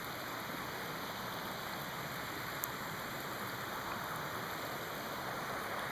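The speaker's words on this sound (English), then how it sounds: "The river's about to get significantly louder." River flowing at a steady, hissing rush, even and continuous without breaks, heard at low overall volume.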